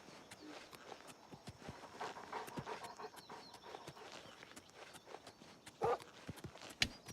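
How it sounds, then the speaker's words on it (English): Dog or wolf panting in the Imperial sewers of the Oblivion Remake video game, quick quiet breaths mixed with soft padding footsteps, faint and steady with a couple of sharper knocks near the end. "I hear dog."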